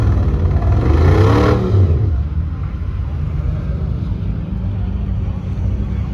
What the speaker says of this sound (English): need to hear some V8s roaring.